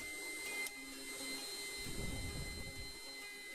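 Electric stand mixer labouring through thick cookie dough with almonds, cranberries and flax seeds, a steady mechanical whir that deepens into a heavier, strained low churning midway, fairly close with no talk.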